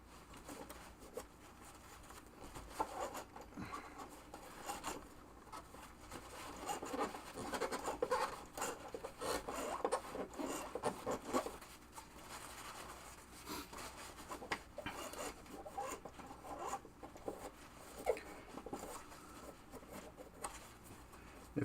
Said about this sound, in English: Clean the grease off.